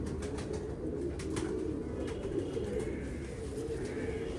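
Pigeons coo softly in a low, steady murmur under a constant background hum, close by, with no clear talking.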